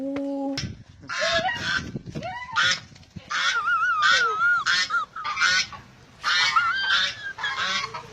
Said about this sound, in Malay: Angsa bahaya. Angsa menggigit.